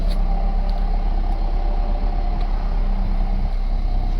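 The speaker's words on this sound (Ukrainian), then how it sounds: "Двигун працює рівненько." A 2018 Chevrolet Equinox with a 2.0-litre petrol engine idling, a steady, even hum and rumble that stays constant and fairly loud throughout without revving.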